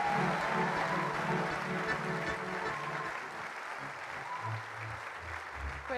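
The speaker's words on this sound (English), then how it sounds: "But please receive her with her mighty clap offering." A church congregation claps for the pastor's wife during a Sunday worship service, giving a continuous, fairly faint wash of applause with tonal voices or cheers mixed underneath.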